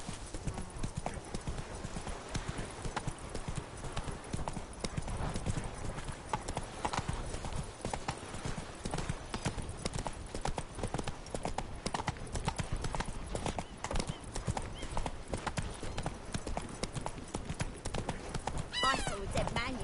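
Roach the horse galloping in The Witcher 3: Wild Hunt, rapid rhythmic hoofbeats continuing throughout with an occasional whinny, while people talk over the sound.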